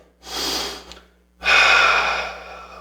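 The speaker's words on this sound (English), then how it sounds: "Big inhale, big exhale. Use your nose, not your mouth." Two deep nasal breaths during a standing warrior yoga pose, a long inhale followed by a pause and then a longer, louder exhale, close and clear with no talking.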